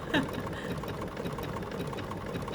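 A sewing machine stitches slowly and carefully down the centre of earlier stitching on a notepad holder. It makes a steady, close, moderate whirring with a brief louder onset at the start.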